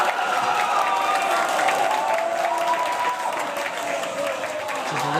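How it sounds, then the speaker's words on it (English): Large crowd at a live StarCraft esports finals cheering and applauding steadily throughout, a loud, dense, continuous roar of clapping and voices. "Just listening to the crowd."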